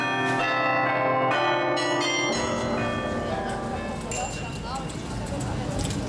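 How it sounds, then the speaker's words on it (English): A mechanical church bell chime plays a tune of several bells in quick succession, clear and ringing for the first couple of seconds. It then gives way to busy outdoor crowd noise and voices. "Each one of those rings a different bell and makes a tune."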